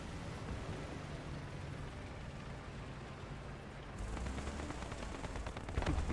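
Gunfire in the War Thunder video game, rapid dense bursts of firing and mechanical clatter, continuous and fairly distant, growing denser toward the end.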